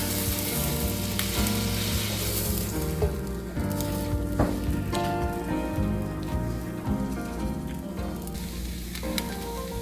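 Bread roasts in butter in a pan, giving a continuous close sizzle and crackle with a few soft scraping or stirring touches, and no talking.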